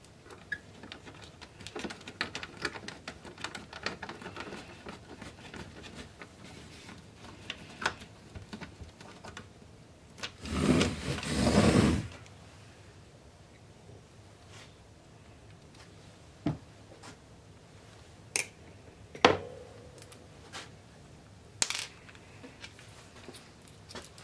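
Screws going into a Realistic TCS-74 dual tape deck during service: faint scattered ticks and clicks, with one louder grinding whir of about a second and a half midway, in a quiet room.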